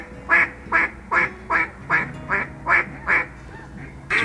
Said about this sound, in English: We've seen a ton of ducks.